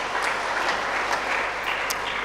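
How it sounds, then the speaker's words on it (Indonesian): Steady crowd applause in a church service closing a culture and language month, even clapping sustained throughout at moderate level with a few sharper claps standing out. "Tepuk tangan untuk Sadar 2 ini ya."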